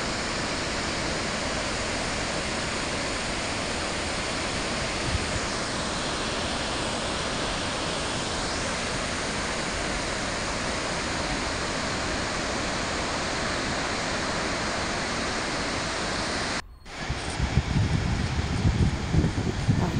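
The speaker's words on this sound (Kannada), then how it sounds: "ನೀರಿನ ಒಂದು ರಭಸ ಶಬ್ದ ಕೇಳ್ಬೋದು ನೀವು" Rushing water of Shivanasamudra falls roars in a dense, unbroken wall of noise close by, with a brief drop near the end before the torrent resumes even louder.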